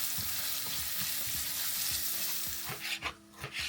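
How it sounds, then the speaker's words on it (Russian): Carrots sizzle in a pan while a utensil scrapes and stirs them in a regular rhythm, with a few louder clanks near the end. "Морковку до конца не жарим"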